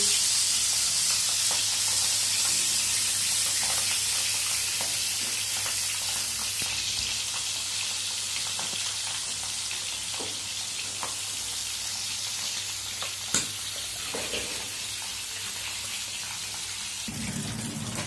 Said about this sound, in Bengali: মাছগুলি ছেড়ে দিচ্ছি। এখন খুব ফুটবে।